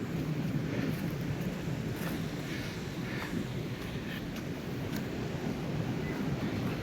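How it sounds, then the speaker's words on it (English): Wind roars steadily through the tree branches of Park Wood in Coventry, UK, a broad, continuous rushing with slight swells and faint rustles, heard close with microphone buffeting and no talking. "Can you hear the wind up in the trees?"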